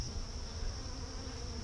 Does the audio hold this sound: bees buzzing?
yes